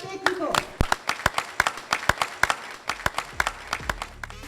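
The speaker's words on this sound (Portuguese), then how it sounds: "Aplauso para o staff técnico" Applause rings out for the technical staff of the RCA sports club at a uniform presentation, with a modest crowd giving distinct, fairly sparse claps in an uneven rhythm over a low background hum.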